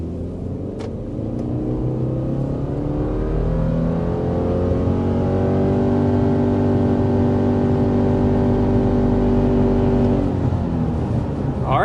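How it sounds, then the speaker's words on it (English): A 2025 Subaru Forester accelerates hard to 60 mph, its engine drone rising steadily in pitch for about ten seconds and then easing off near the end, heard continuously and loud from inside the cabin. "there is our acceleration up to 60 miles per hour with the 2025 Subaru Forester"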